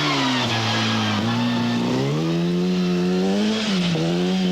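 An Opel rally car on a stage of the 1996 Belgian rally roars past in a sustained loud engine note, its pitch sagging and climbing with gear changes and throttle lifts.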